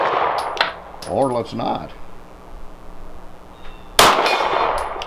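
A Walther PDP Compact pistol shot rings off a partly buried steel gong target outdoors as a single loud crack and metallic clang near the end, following earlier fainter clangs and brief talk.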